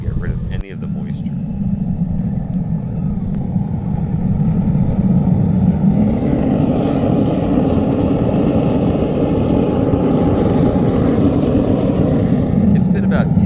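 A burner on a Vevor 12 kg melting furnace, heating a brand-new crucible slowly, starts with a sharp ignition click and then roars steadily and loudly, like a low rumbling blowtorch, holding even throughout.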